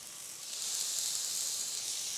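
Chicken pieces sizzle skin side down in a hot pan, a steady close hiss of frying fat that swells slightly after the first moments and holds evenly, with no talking.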